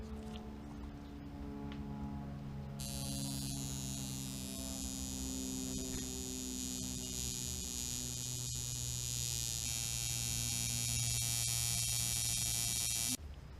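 A steady electric buzzing hum from a coil tattoo machine running at about 4 volts, continuous, close and loud, with a sharper high-pitched whine joining partway through.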